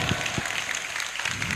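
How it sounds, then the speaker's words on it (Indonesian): Brief applause during an Arabic grammar recitation demonstration at an Islamic school, a short, even patter of many hands clapping at moderate distance. "Tepuk tangan."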